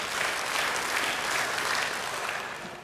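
Steady applause from a congregation at an Indonesian church service, a dense, loud clapping that holds for a few seconds before tapering slightly at the end.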